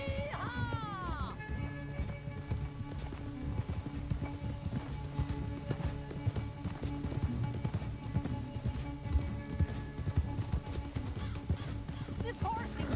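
A horse gallops in the Red Dead Redemption 2 video game, steady rapid hoofbeats under a continuous game soundtrack, with a short whinny at the start and people talking and shouting over it.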